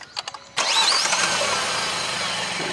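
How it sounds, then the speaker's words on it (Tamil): A Hyundai Verna 1.5 turbo GDi petrol engine cranks with a few short clicks, then fires with a slight rumble and settles into a steady, close idle, with no talk. "நம்ம ஸ்டார்ட் பண்ணும்போதே ஒரு சின்ன ரம்பிளோட தான் ஸ்டார்ட் ஆகுது."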